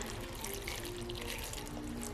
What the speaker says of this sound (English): Pour in about a cup of the boiling water.